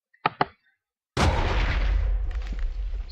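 A single loud gunshot boom from a modded gun in Minecraft, a sharp blast with a long rumbling tail, preceded by two short quiet clicks.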